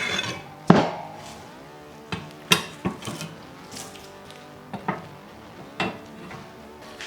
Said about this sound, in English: So I'm fitting the ceramic heat deflectors.